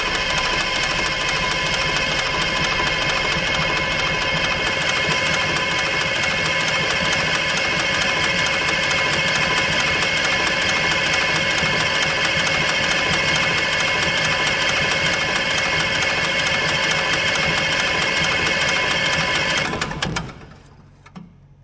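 Old Allis-Chalmers diesel engine on a long-idle military generator, running steadily with a loud, constant mechanical drone and hum for about twenty seconds before abruptly shutting down.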